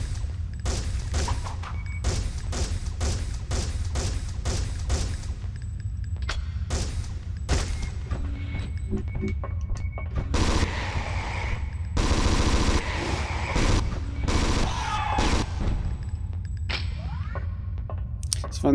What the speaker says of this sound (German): Es waren jetzt wieder locker vier Patronen umsonst verschossen